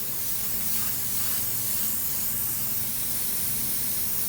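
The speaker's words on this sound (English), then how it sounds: "I'm not even spraying it that wet" Spray paint hisses steadily from a can onto a candy-colored finish, a continuous close airy spray without pauses, loud and alone, with no talking.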